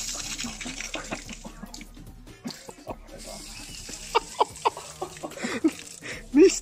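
Water trickles and splashes as it drains from a flooded KTM EXC 250 TPI two-stroke dirt bike pulled out of a stream, with intermittent drips and gurgles close by and a voice speaking at times.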